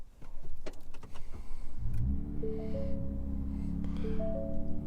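A 2024 Ford F-150 Raptor with the 37 package running its startup sequence: a soft whir and clicks, then the engine settles into a low, steady hum while a few clear electronic chime tones ring out inside the cab.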